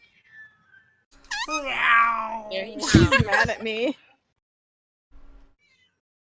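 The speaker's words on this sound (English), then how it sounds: "my giant cats sound like kittens when they meow, and it's really cute" A large house cat lets out a loud, drawn-out, sassy meow followed by a shorter complaining cry, close and clear, with a person speaking briefly around it.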